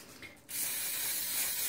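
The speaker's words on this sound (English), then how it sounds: "I'm gonna spray a little bit more coconut oil on the top." Coconut oil cooking spray hisses onto bread dough in a home kitchen, a steady close spray that starts abruptly after a brief quiet moment and continues alone.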